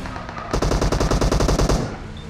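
Automatic gunfire in the PUBG Mobile video game: a loud, steady burst of about fifteen rapid shots lasting over a second, heard close and alone.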